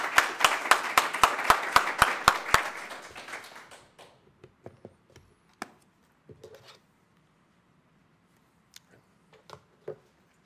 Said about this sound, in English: So round of applause to you all for making that happen.